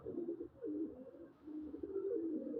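A Punjabi Malwai pigeon coos close by in low, rolling, throaty phrases, repeated several times without pause.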